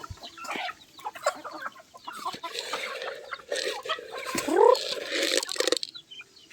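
Chickens cluck and squawk close by in a busy flock, one sharp rising call standing out near the end.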